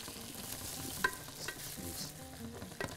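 Roasted vegetables sizzle in a hot pan with steady crackling and stirring, close and continuous, with a few brief clinks of the utensil.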